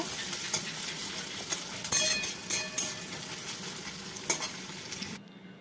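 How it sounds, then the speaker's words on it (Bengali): Chopped onions fry in hot oil, sizzling steadily up close while a spatula stirs them with repeated scraping and clinking against the pan, no voices. "পেঁয়াজ কুচিটা দিয়ে তেলের মধ্যে আমি ভালো করে একটু ভেজে নেব"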